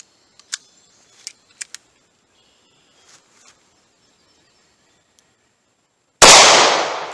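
A single loud, sharp gunshot from a .38 Special pocket gun loaded with Winchester Silvertip, fired over a chronograph, coming at the end after small clicks and faint handling sounds in quiet surroundings.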